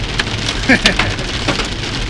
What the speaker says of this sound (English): I'm driving out of this hail because,